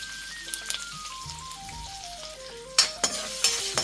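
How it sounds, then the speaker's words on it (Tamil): Chillies and curry leaves sizzle steadily in hot oil as they are stirred, a continuous frying hiss with a few sharper metallic scrapes and clinks near the end, close and fairly loud, with no talking. "நல்லா சாட்டே பண்ணிக்கலாம்"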